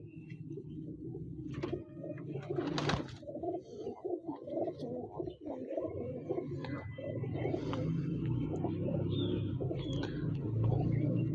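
Teddy pigeons, a Pakistani fancy breed, coo in a soft, repeated, throaty rhythm close by. Light shuffling and rustling run underneath.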